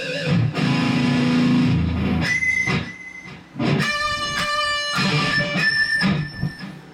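An Agile Interceptor Pro 727 seven-string electric guitar plays through a distortion channel, with thick, sustained chords and riffs ringing loudly, separated by brief pauses.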